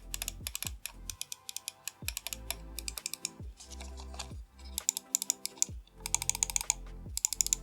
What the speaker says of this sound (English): the clicks on the XM2we are heavier than they were on the XM1R